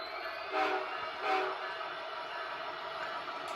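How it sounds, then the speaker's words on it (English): A model train rolls steadily along a layout with a continuous mechanical hum, punctuated by two short horn-like toots. "train number 4 is coming out into the actual layout"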